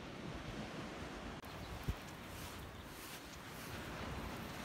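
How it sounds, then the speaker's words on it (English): Pacific Ocean surf at Santa Monica rolls in as a constant broad wash of waves and wind, steady and moderately loud, with no voices. "There's the Pacific Ocean, Sam."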